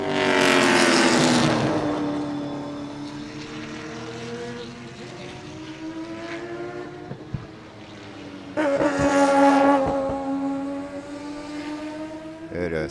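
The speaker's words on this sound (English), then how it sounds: "sounded like the little Mazda was breaking up a little bit" Race cars, including a small Mazda, pass at Sebring, their engines droning loudly with a sweeping roar near the start and another surging pass near the end, a steady mid-distance engine note between.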